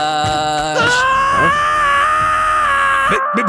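A man shrieks a long, high, wavering cry, his voice imitating a seagull on a beach, loud and close, with strained rising and falling pitch that breaks off abruptly.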